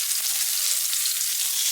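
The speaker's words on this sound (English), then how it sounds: "Fry the serai," Lemongrass fries in a pan for nasi lemak rice with a dense, even, close sizzle that holds steady throughout.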